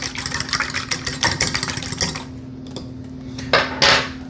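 A single egg is whisked in a bowl for an egg wash. Quick rattling clinks of utensil on bowl repeat rapidly for about two seconds, then stop, followed by a couple of louder scrapes, all against a steady background hum.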